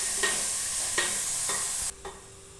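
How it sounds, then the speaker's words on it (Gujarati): Onions sauté in a pan with a continuous bright sizzle, broken by a few stirring scrapes, before the hiss suddenly drops much quieter. "ડુંગળીને આપણે છે ને સાવ સાંતળી લેવાની છે."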